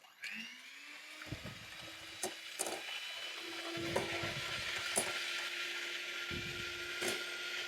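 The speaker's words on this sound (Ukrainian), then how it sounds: "Їх потрібно збити до такої білої пишної маси на максимальних оборотах." An electric mixer runs at maximum speed whipping about 70 g of egg whites, roughly two hens' eggs. A steady motor whine carries throughout, broken by several brief rattling bursts as the beaters knock the bowl.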